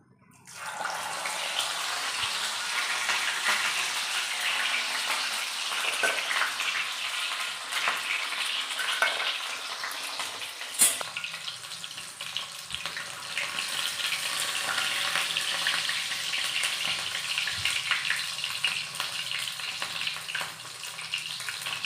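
Chicken pieces fry in hot oil with a loud, continuous hissing sizzle and steady crackle that lasts throughout, with a few sharper pops along the way.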